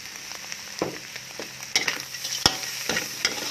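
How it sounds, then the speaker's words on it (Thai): Rice stir-fried in a hot pan with fried garlic and crispy fried shallots for a Thai dry-style fish rice dish, giving a steady sizzle broken by sharp scrapes and clacks of the spatula, close and with no talking. "คลุกเคล้าให้เข้ากันค่ะ ผัดให้เข้ากันค่ะ"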